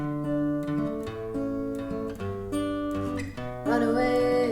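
A guitar fingerpicks a chord pattern at full speed, alternating root notes with higher strings in a quick, steady rolling rhythm, close and clear, with no talking.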